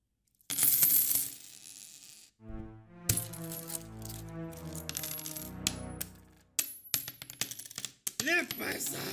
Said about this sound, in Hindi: खा सोने के सिक्के।